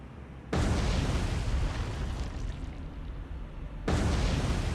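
Torpedo hits exploding against warships in the naval game War on the Sea: a heavy, loud booming blast that swells suddenly, rumbles on for several seconds, then a second big detonation surges in near the end.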